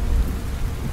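Dense rain hisses steadily under a low rumbling storm in the video game Len's Island, a brief continuous wash of weather sound.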